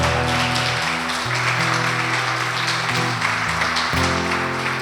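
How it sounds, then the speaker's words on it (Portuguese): A church congregation claps steadily in praise, a dense wash of applause running under sustained keyboard chords that shift a few times. "Dê uma salva de palmas ao Senhor."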